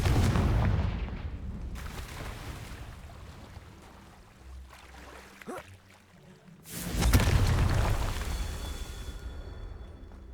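Confringo fire spell explosions in the video game Hogwarts Legacy, a loud burst near the start and another heavy blast around the seventh second, with rumbling and crackling game effects between them.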